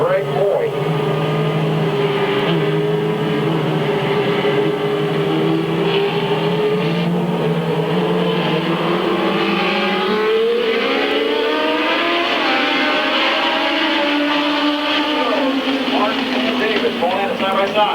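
Race cars running side by side at Midvale Speedway, a loud dense engine roar with layered pitches rising and falling as the cars push through the turns, with an announcer talking over it.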